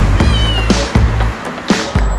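Street cats in Istanbul meow repeatedly, several short cries spaced through the moment, close and clear over light outdoor noise.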